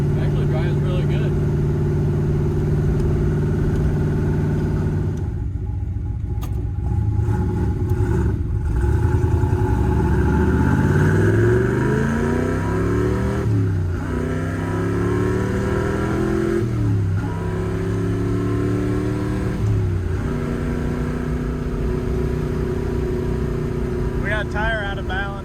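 A 1965 Corvette found in a barn drives on new tires, its engine droning inside the car and rising and falling through several gear changes as it speeds up. People talk over the engine noise.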